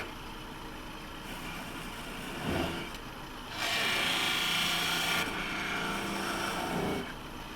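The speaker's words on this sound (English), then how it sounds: "sanding would be the right time to sand now" Sanding a wooden tilted ring box: coarse rasping strokes rub against the wood up close, a short burst followed by a longer sustained stretch of scraping and a final brief pass, no talking.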